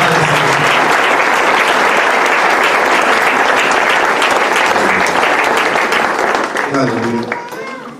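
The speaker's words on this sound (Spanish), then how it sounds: "Le damos un buen aplauso a nuestro Padre Celestial" Congregation at a church service gives a long round of dense, loud applause that fills the room nearly to the end, then thins and fades as a voice begins speaking.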